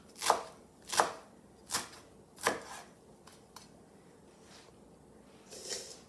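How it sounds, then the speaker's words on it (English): A knife chops two big handfuls of an ingredient for a Mexican street corn salad: about five crisp, separate chops in an uneven rhythm, close and fairly quiet, then a softer pass of the blade near the end. "give it a chop."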